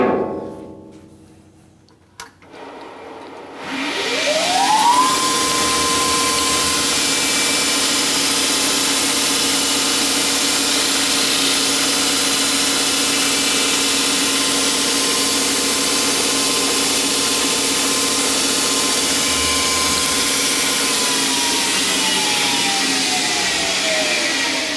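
A metal lathe facing off the end of metal spacer stock: after a brief quiet start the machine spins up and holds a steady, loud whirring hum with a faint cutting tone, alone with no talk.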